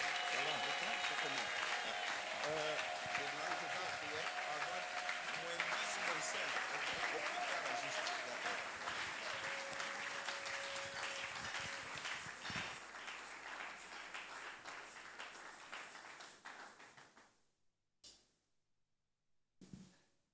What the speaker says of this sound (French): nous l'accueillons et nous applaudissons le Seigneur